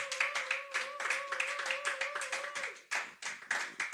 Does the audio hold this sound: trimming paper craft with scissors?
no